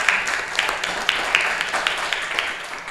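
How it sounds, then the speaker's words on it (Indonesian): Steady applause from a seminar audience: many hands clapping at a brisk, even pace, with sharp individual claps rising above the crowd for the full stretch. "Kita kasih aplaus yang meriah satu kali lagi untuk narasumber kita."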